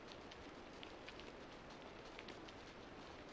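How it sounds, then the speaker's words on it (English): Steady rain falls in the video game Aidyn Chronicles: The First Mage, a dense, even hiss of drops pattering on surfaces, continuous and soft with no voices. "It's raining again, yep."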